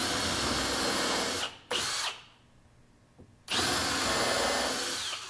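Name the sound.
power drill pre-drilling wood with countersink bit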